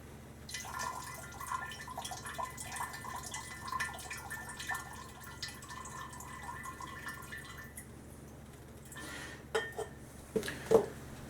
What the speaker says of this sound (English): First let me pour all the electrolyte that I can here.